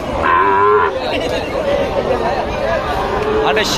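Cattle lowing at a busy Raniganj cattle market in Bangladesh, with a clear moo near the start followed by further calls amid a constant crowd hubbub and people talking.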